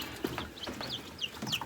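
Baby chicks cheep and cluck inside a brooder set up in a chicken house, a run of short high chirps repeating quickly at close range with no talking.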